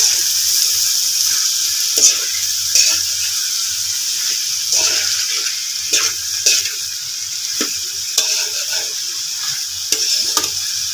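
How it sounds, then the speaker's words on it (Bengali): Flat beans and potatoes with spices being stirred in a hot pan, a steady loud sizzle and hiss with intermittent scraping clinks of the spoon, close and continuous with no talk. "এখন এটা ভালো করে নাড়তে হবে, মশলাগুলি ভালো করে মিক্সড করে দিতে হবে।"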